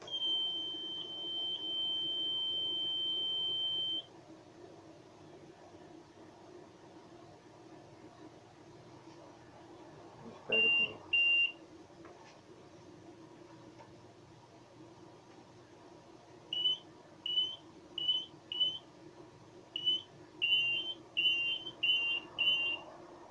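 Mineoro DC2008 metal detector switched on: a steady high tone at first, then a couple of short beeps and finally a rapid series of clipped electronic beeps over faint background hum.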